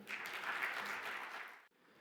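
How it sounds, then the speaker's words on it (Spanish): Audience applause welcoming a panel moderator at a conference on green hydrogen projects in Chile, a brief wash of many hands clapping that cuts off abruptly near the end, leaving quiet room tone. "a quien vamos a recibir con un gran aplauso"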